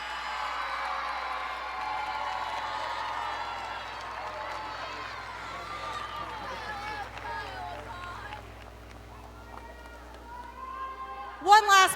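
At the 2025 ACC gymnastics championship awards, an arena crowd gives a long, even wash of applause and cheering that slowly fades, and a voice comes in at the very end.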